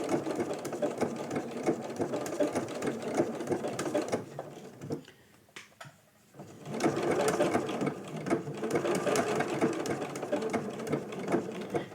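A sewing machine runs steadily, stitching a raw edge appliqué, then pauses for a second or two before resuming its fast, even whirring at close range.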